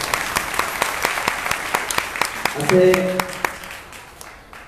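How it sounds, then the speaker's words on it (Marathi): An audience at a kirtan gathering at a monastery applauds with scattered, sharp claps, while a voice speaks briefly partway through. "शिवभक्त परायण व हरिभक्त परायण जोरदार टाळ्या वाजवा."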